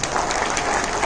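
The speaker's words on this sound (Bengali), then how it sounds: "জোরে একটা হাততালি" Audience applause at a live Mirakkel stand-up comedy show, a steady wash of many hands clapping loudly and continuously throughout.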